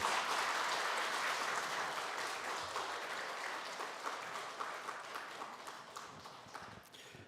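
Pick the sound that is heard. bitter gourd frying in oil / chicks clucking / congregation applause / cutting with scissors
congregation applause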